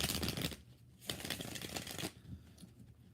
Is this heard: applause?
no